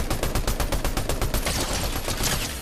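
Fast, evenly spaced automatic gunshots ring out loud and close in a shooter video game, roughly a dozen sharp cracks in quick succession before trailing into a noisier wash of fire.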